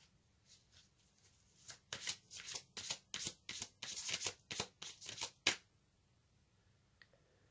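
Tarot cards being shuffled by hand, a quick run of crisp riffling flicks in close succession, then a pause with a faint tap as a card is drawn; close and clear, no talk.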